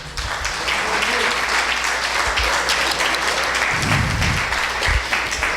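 A church congregation breaks into loud, sustained applause, a thick continuous wash of clapping with low thumps and voices mixed in.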